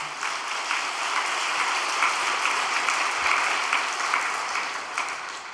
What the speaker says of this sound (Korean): 다시 한번 우리 이 가정을 위해 격려의 박수를 부탁드리겠습니다